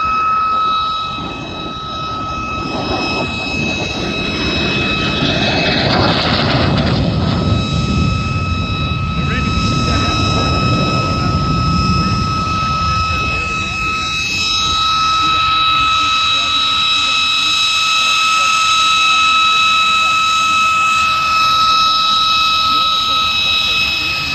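A jet aircraft at the Great Texas Airshow sweeps past with its afterburner lit, a loud broadband roar swelling and fading over the crowd, with high whining tones on top and people talking underneath.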